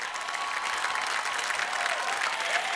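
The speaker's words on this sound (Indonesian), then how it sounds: "Berikan tepukan Adi Putra" An audience applauds steadily for a judge being introduced on a Malaysian television show, the clapping loud and continuous throughout with no voices over it.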